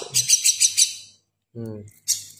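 A young jalak kebo, or buffalo myna, chirps close by in a quick run of four or five bright, rapid notes, then gives a lower harsh call and one more sharp chirp after a short pause.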